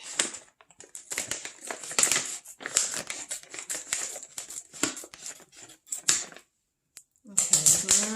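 Scissors cut open a package, giving rapid, crisp snipping and crinkling in irregular bursts at close range, with a short pause before a voice speaks at the end.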